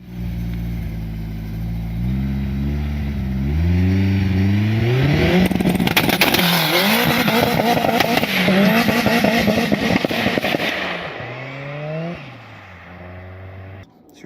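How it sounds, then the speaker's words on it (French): Ford Sierra Cosworth with a 2-litre turbo YB 205 engine revving hard, rising and falling blips climbing to a loud, raspy peak, then settling back before cutting off. "c'est un 2 litres turbo de la Cosworth, donc c'est un moteur YB 205"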